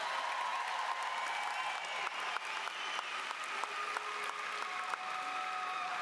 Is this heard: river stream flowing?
no